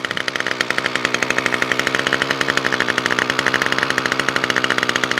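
A small petrol engine on garden equipment, unused all year, runs on choke with a rapid, loud, evenly pulsing chug close by and no other sounds.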